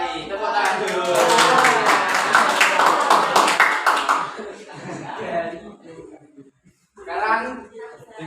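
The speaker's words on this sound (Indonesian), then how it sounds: "Tepuk tangan dulu." Students clap together in a classroom during a mathematics lesson, a dense burst of applause mixed with voices and chatter, fading after about four seconds before more talking follows.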